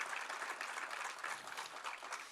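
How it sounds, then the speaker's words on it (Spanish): A church congregation applauds during worship, a dense, steady clatter of many hands clapping at moderate volume, sustained for the whole moment without a break. "Give him a mighty hand in worship."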